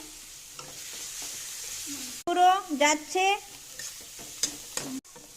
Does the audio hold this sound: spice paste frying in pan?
yes